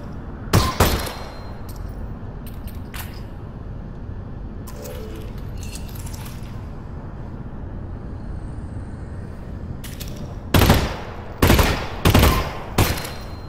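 Gunshots from a firearm in Half-Life: Alyx, a few isolated sharp reports early on, then a quiet stretch with faint handling clicks, followed by a closely spaced group of loud shots near the end.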